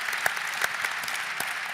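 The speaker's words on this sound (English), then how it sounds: "Give Becky another round of applause for the ADA" An audience applauds a speaker at an ADA event, steady dense clapping with a few sharper claps standing out, alone with no talk.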